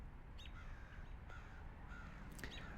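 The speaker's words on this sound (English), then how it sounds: "You hear a lot of crows around here" Crows cawing outdoors, several calls spaced across a few seconds, moderately distant over a steady background hum with no talking.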